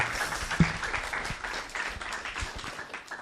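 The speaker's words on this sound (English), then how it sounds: "a big round of applause for Bhuta Bhavana, please" Audience applause for a presenter at a spiritual talk, a dense wash of many hands clapping at moderate volume, continuous and even for a few seconds.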